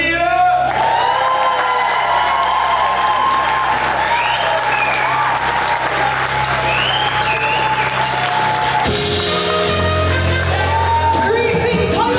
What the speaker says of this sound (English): put your hands together for Jah'Mila